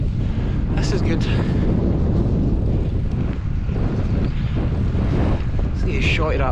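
Wind buffets an outdoor microphone in a steady, loud roar of low rumble that runs the whole time, with brief hiss gusts near the start and end, away from road noise on a long-distance route between Glasgow and Edinburgh.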